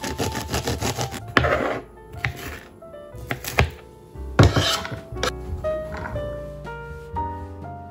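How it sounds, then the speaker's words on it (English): A knife chops an onion on a cutting board in a home kitchen, giving irregular sharp knocks and clatters with pauses in between, and dishes clink now and then. "take the onion and just cut it up"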